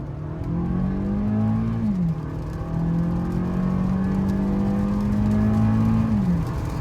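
A 2022 Toyota Camry SE engine revs hard under full-throttle acceleration, with a steady loud drone that climbs in pitch, dips at a gear change, then rises again. No talking.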